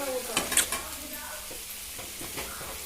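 Oil sizzles lightly in a frying pan on a stove while kolukattai is prepared, a steady soft crackle with a few stirring and utensil clicks near the start, close and moderately quiet.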